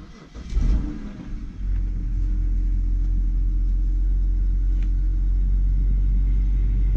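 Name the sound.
car engine starting up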